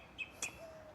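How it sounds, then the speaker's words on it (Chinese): Wild birds call at a campground in Miami; two short, bright chirps ring out within a second, clear against a quiet background. "现在你这不是配乐，这真的鸟在叫。"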